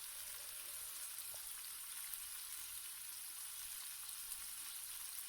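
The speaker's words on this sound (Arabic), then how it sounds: "بعد ما تقلاو من الجهة الأولى راح نقلبهم من الجهة الثانية باش يكملوا يتقلاو" Tuna slices sizzle steadily in a hot frying pan, a continuous soft crackle and hiss with no talking.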